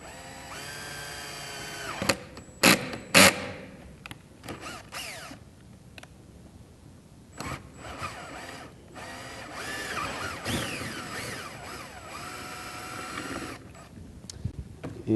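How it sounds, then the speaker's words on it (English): A drill bores into a window's interior finishes and liner in short bursts, whining up and stopping between pauses, with clicks and handling noise close by. "I'm going to come in and try to drill a hole right there"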